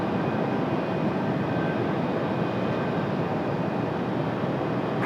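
An Alaska airliner on takeoff from runway 23 right at Raleigh-Durham International produces a steady, broad jet roar that stays loud and unbroken throughout.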